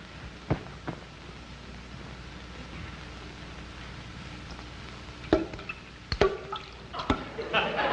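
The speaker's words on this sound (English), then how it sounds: "Darn faucet dripping again." A leaky household faucet drips indoors at night, with a few sharp drops at irregular intervals standing out against a quiet background hiss.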